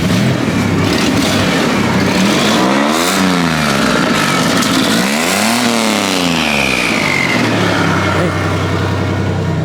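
Turbocharged Jeep Wrangler engine revving hard through clutch kicks, loud and close, with repeated rising and falling sweeps as the revs climb and drop, running continuously without talk.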